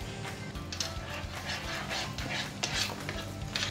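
Palak paneer gravy is stirred in a pan after garam masala and salt go in, giving steady scraping and clinking of a spoon against the pot over a soft bubbling sizzle, close and continuous.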